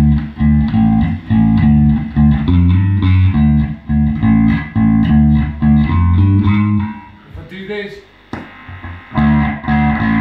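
An electric guitar plays rhythmic chords through an amplifier, then drops to a few quieter, sparser notes before the strumming returns.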